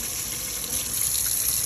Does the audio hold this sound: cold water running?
yes